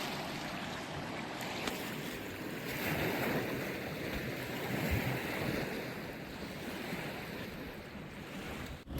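Steady waves wash and churn on Lake Powell, stirred up by wave runner boats, with gusty wind buffeting the microphone throughout; no voices.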